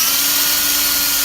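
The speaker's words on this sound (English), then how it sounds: "Drilling some speed holes in the air cleaner" A power drill whines steadily while boring holes in the air cleaner case of an 80cc go-kart, a continuous high-pitched tone heard up close.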